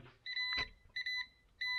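A car gives off a few short electronic beeps during repair work on a 2014 Chevrolet Montana, close and fairly quiet, with a brief knock between them.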